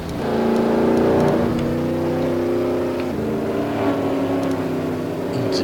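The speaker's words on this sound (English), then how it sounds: "As you see the cars coming by as they line back up." Race cars at Rockingham in the Chicken Run event roll by in a loud, continuous engine drone, with several engines overlapping and pitch shifting as the cars pass close while lining back up.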